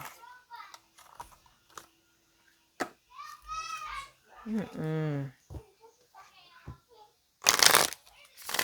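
Tarot-style cards are shuffled during a card reading, with brief riffling flutters scattered among soft talk and a voice, ending in one loud, close burst of rapid shuffling.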